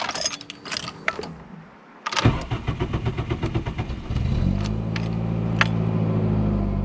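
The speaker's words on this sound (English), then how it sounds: "And yes, it still runs." A Volkswagen Golf engine with a battered, abused history cranks with a rapid rhythmic churn after some mechanical clatter, then catches and settles into a loud, steady idle close by.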